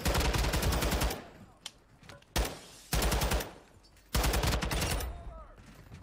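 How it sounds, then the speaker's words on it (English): Gunfire in the video game DMZ: several loud bursts of rapid automatic fire, each lasting about a second, broken by short pauses with a few single shots and faint echoes between them. "Taking effective fire."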